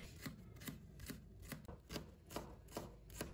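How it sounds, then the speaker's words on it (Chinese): A knife chops chili pepper into small pieces on a cutting board, about nine evenly spaced sharp taps in a steady rhythm, close and quiet. "再把辣椒子去掉，然后切成条。 最后切成小粒"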